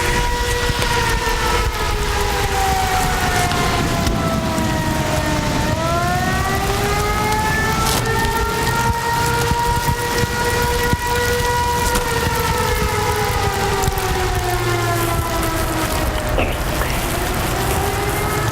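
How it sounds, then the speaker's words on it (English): Emergency sirens wail during a thunderstorm, loud, rising and falling slowly and continuously, with a heavy rumble of rain, wind and passing traffic underneath. "listen to the sirens"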